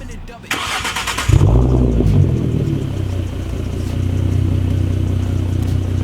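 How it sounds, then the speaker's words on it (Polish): An already warm Ford Mustang engine cranks briefly and catches, then settles into a steady low idle close by. Someone talks over it before the start. "Ale my będziemy odpalać już na takim trochę rozgrzanym."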